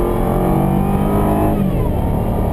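A Jaguar XKR accelerates hard from 60 to 120 km/h through a somewhat slow conventional automatic gearbox. The engine drone is loud and close and climbs steadily in pitch, with a shift in tone partway through and no talk.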